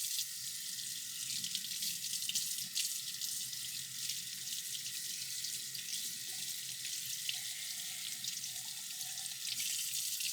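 Salmon being rinsed under a running kitchen faucet into a sink, a steady close hiss of flowing water with faint splashing changes throughout, no speech.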